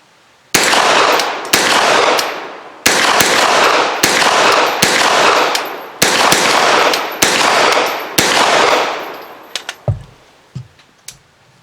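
Freedom Ordnance FX-9 pistol firing 65 grain ARX ammunition: eight close, loud shots in a steady string, each with a sharp crack and ringing decay, followed by a few faint metallic clinks.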